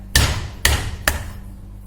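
Four sharp, heavy thwacks of a knife smashing ginger slices land on a cutting board at uneven intervals, each a loud close smack with a brief ring.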